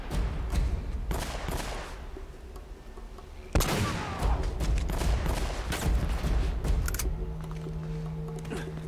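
Gunfire in Uncharted: Drake's Fortune, including a dragon sniper rifle: rapid overlapping shots and impacts throughout, with one loud heavy blast midway, followed by further bursts and game sounds.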